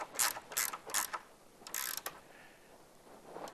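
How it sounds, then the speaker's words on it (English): Box wrench tightening a nut under downward pressure, a few quick ratcheting clicks in short bursts, close and fairly quiet, with pauses between. "what's easiest is to get a little box wrench, and we're going to keep some downward pressure."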